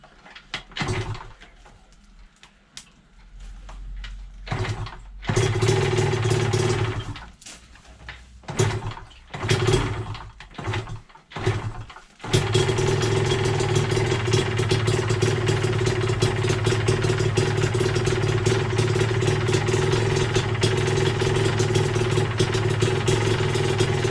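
A Yamaha DT125LC two-stroke motorcycle is kicked over several times with sputtering bursts, then catches and settles into a loud, steady, close idle that runs on alone.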